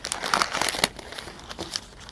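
Oil paper is wrapped around a fuel injector valve assembly, making close, irregular crinkles and crackles over a couple of seconds.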